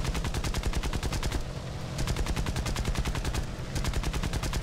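Rapid aircraft machine-gun fire hitting an enemy plane in the War Thunder open beta, a steady loud rattle of dense bursts with two short pauses between volleys.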